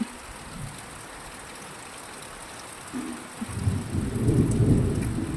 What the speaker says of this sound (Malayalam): നല്ല ഇടിയൊക്കെ പൊട്ടുന്നുണ്ട്